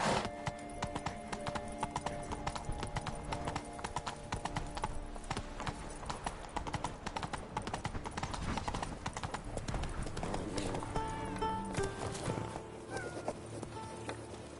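Hooves of Roach, a horse in a video game, clip-clop in a fast, continuous galloping rhythm under game music and ambience.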